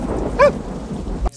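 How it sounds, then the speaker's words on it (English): A thunder crack with rain from a horror-toned 1994 river-rafting thriller, heard as a brief loud rumble and tonal burst over a steady wash of rain, with a sharp knock near the end. "thunder and rain."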